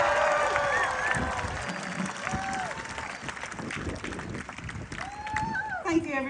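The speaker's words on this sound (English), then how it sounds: "Give her a round of applause, ladies and gentlemen." Audience applause welcoming a doctor to speak at a hospital event, clapping mixed with cheers and whoops, with voices calling out over it.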